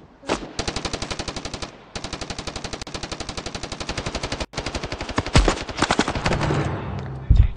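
Rapid automatic gunfire bursts from the first-person shooter game Standoff 2, long evenly spaced rattling strings of shots with a short gap, then heavier irregular shots and impacts.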